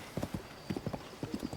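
Hooves of a big horse in Zelda: Tears of the Kingdom clop in quick paired beats, a steady trotting rhythm heard faintly and on its own.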